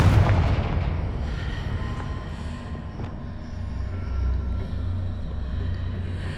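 Confringo fire spell explosion in the Hogwarts Legacy video game, a heavy booming blast at the start that settles into a dense, lingering low rumble.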